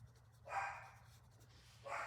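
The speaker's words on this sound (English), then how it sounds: "my dogs are impossible. They are so annoying. They bark all the time." A dog barks twice indoors, short faint yelps separated by a pause, over a low background hum.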